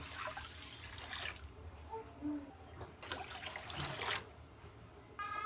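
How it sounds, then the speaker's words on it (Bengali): Water poured onto kalai (black gram) lentils in a cooking pot for boiling, a faint trickling and splashing in several short bursts over low background noise. "ডালে আমি এবার পানি দিয়ে দেবো সিদ্ধর জন্য।"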